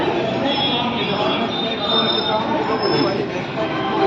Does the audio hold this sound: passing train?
yes